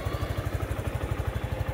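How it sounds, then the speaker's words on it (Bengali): A 2022 Suzuki Gixxer FI ABS motorcycle in fresh condition idles with an even, rapid low thudding pulse, close and steady with no other sounds. "বাইকটি এখন স্টার্ট অবস্থায় আছে"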